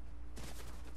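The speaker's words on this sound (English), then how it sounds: "Oh shit, I'm getting shot at." Gunfire in a Fortnite match starts abruptly partway in, a dense rapid burst of shots that continues loud to the end over a steady game background.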